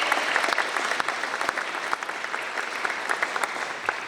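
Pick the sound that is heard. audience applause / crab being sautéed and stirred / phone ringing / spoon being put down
audience applause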